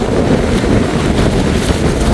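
Storm-driven sea waves surge against the coast at Keerimalai near KKS in Jaffna, with a steady, loud roar of wind and surf buffeting the microphone throughout, and no voices.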